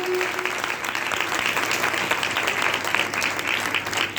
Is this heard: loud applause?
yes